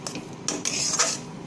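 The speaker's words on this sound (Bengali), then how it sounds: "এটাকে এবার অনেকক্ষণ ধরে নাড়াচাড়া করতে হবে" A sandesh mixture being stirred in a pan, with a utensil scraping and knocking against the metal in a few sharp, close clanks and scrapes.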